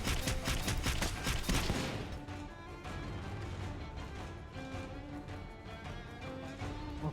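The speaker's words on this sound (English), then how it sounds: "If you just like explosions, try the Gunlance." Rapid volley of Gunlance shell explosions from Monster Hunter Rise, a dense burst of booming blasts at the start, then settling into rumbling, ringing game effects and music-like tones, loud and continuous.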